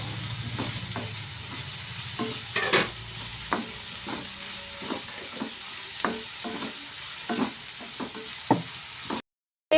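Onions softening in a hot pan for a home-cooked chicken curry, a steady low sizzle broken by repeated scraping stirs of a spoon against the pan, close and clear with no talk.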